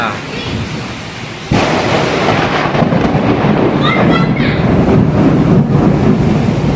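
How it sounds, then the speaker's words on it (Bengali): Heavy rain pours, then thunder cracks suddenly and keeps rumbling loudly through the downpour, with faint sounds of someone nearby. "এরকম বজ্রাঘাত করছে দেখো বন্ধুরা।"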